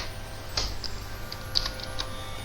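Light tapping of keys on a computer keyboard while typing VBA code, a sparse handful of soft clicks over a low hum, close and quiet.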